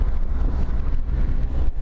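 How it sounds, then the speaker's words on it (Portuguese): Strong wind buffets the microphone during a ride in Los Angeles, in a steady, heavy low roar with gusty rumbling throughout. "Tá ventando pra caramba."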